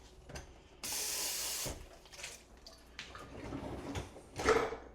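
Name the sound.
hand washing dishes with running water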